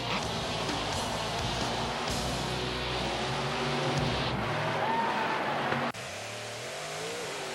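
Monster trucks revving and accelerating hard at a mud racing event, a loud continuous engine roar that surges and then drops off abruptly near the end, with no voices.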